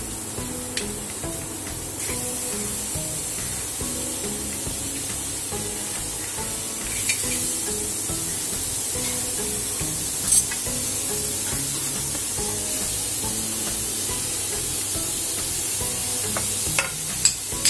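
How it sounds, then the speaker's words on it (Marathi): Onion roasting on a hot tawa, ahead of making shev bhaji, gives a steady, moderate sizzle and hiss that runs unbroken, with occasional light scrapes and taps from stirring. "आपण आता हे कांदा तवा ठेवलाय मी तापत, तर पहिले कांदा आपण भाजून घेऊया।"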